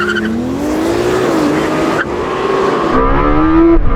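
Lamborghini Temerario and Ferrari 296 launching side by side in a drag race, loud engines rising in pitch with tire squeal and wheel spin, a continuous close roar throughout.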